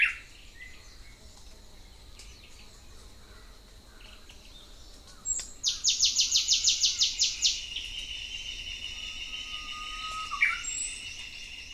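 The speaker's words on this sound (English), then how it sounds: "This is the Okinawan rail" Okinawan rail, a rare flightless endemic bird, calling in a forest on Okinawa: a loud rapid burst of repeated shrill notes rising out of a steady insect and bird chorus, followed by a few fainter calls.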